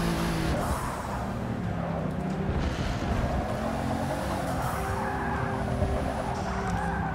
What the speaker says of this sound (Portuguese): O carro derrapa muito